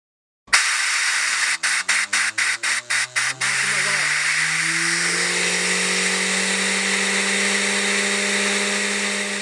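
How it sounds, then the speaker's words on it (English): Compressed air from a compressor bursts on and drives a 3D-printed Tesla turbine, a loud steady hiss with a rising whine as the rotor spins up, broken early by a run of rapid sputtering pulses, then settling into a sustained roar. "I used my compressor to make the speed test"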